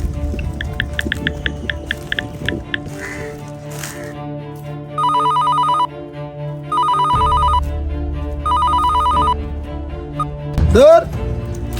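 A phone ringtone sounds in three loud, even bursts of electronic trilling separated by short pauses, after a spoken stretch and before a brief swooping tone at the end.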